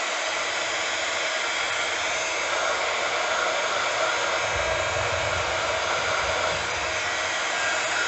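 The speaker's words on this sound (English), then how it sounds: "Then we're going to bring in our heat gun. Now this is going to make a little bit of noise" A heat gun blows steadily and loudly up close for several seconds, a continuous even roar while it warms and melts clear embossing powder on a craft piece.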